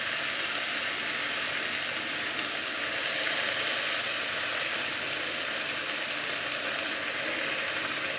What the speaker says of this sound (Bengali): আলু শাক ভাজি করতেছি আমি।